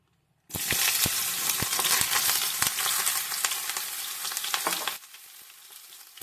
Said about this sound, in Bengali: এরপর আমি বেগুনগুলোকে ভেজে নেব।